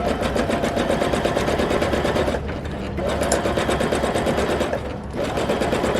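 A domestic long-arm quilting machine stitches a feather design, a fast loud rattling needle chatter that runs continuously and briefly slows twice.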